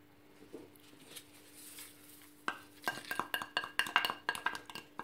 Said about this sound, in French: On va mélanger la viande avec les épices